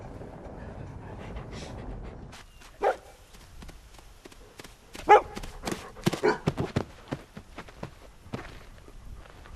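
A dog in a film scene barks several times in sharp, scattered bursts, mixed with thumping, footstep-like knocks over a quiet backdrop.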